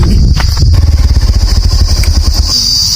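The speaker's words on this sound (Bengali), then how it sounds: "চলো বাইকটা আবার নিয়ে আসি।" A motorcycle is brought over on a forest track in Garh Jungle near Durgapur. Its engine thumps close and loud in a fast, even idle rhythm before quieting at the end.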